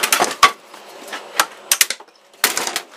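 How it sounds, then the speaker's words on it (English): A hammer taps off a piece of a wooden pistol crossbow trigger, several sharp, close knocks in irregular clusters with short pauses between them. "get out a little tap with a hammer."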